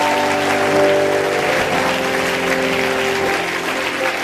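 Sustained loud applause from a congregation at a church service, steady dense clapping throughout with no talk over it.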